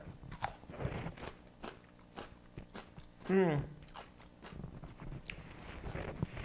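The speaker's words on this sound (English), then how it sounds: "I'm going to taste it with a piece of red pepper" A piece of red pepper bitten and chewed during tasting of a garlic soup: one loud, close crunchy bite in the middle, with softer chewing and mouth sounds around it and faint voice in the background.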